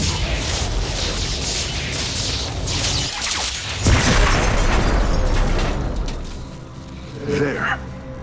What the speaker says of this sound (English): With the Hybrid eliminated, we can safely destroy the power structure.